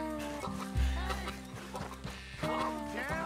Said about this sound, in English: Get my horse to meet me down here.